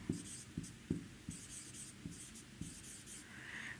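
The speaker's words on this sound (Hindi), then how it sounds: "तो हम लिखते हैं सॉल्यूशन में" Pen or chalk writing out a maths solution for a highest common factor problem: faint, close scratching strokes in short irregular bursts with soft taps, quiet throughout and without talking.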